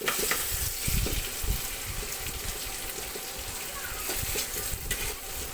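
Bitter gourd frying on a home stove gives a steady, fairly loud sizzle with intermittent stirring scrapes and clatters, without talk.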